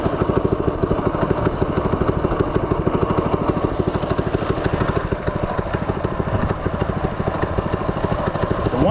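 A small FRP GMB-100 minibike engine idles steadily and loudly up close, its rapid, even thumping pulse running unbroken throughout with a slight mechanical clatter.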